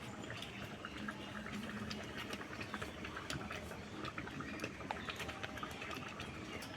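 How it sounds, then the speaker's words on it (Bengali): Fish curry gravy with catla fish head and jackfruit bubbles steadily in a pot, a continuous soft simmering hiss with small scattered pops, fairly close and even throughout. "ঝোল ভালো মতো ফুটে গেছে"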